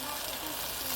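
Ginger and garlic sizzle in hot oil with cumin seeds in a kadhai while making a street-style Nashik vada pav potato filling; a steady, close, dense frying hiss fills the whole second, with no talk.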